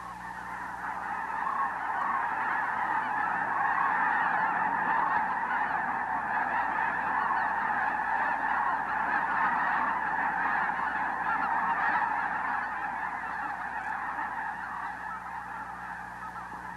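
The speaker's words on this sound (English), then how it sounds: "Geese have been in this part of Tamaulipas for 2 weeks. The flock is building every day." A large flock of snow geese in Tamaulipas, Mexico, in mid-December honks continuously, a dense overlapping chorus of calls holding steady throughout, with no talking.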